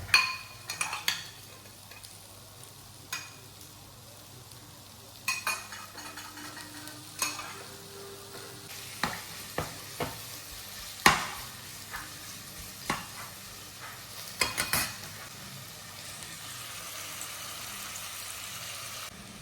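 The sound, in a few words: vegetables stir-frying in oil for chicken chow mein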